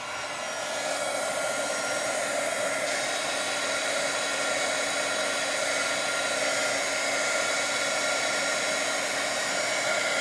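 A heat gun blows steadily over wet watercolor paint, producing a constant, even whirring roar with no pauses, fairly close to the microphone.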